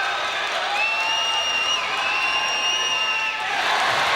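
A hockey arena crowd cheers and applauds for a penalty shot, a broad, sustained roar with whoops, and a bright whistle-like tone over it.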